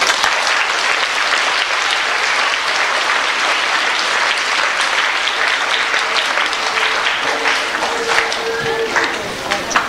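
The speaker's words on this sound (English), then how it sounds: "Let's give them another round of applause." Sustained audience applause for scholarship recipients at a school reunion event, loud and steady throughout with dense clapping and faint voices mixed in.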